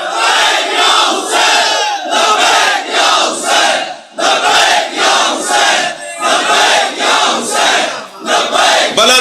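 A large crowd at a religious address chants Labbaik ya Hussain in loud unison, the rhythmic chant repeating in strong surging phrases with short breaks between them.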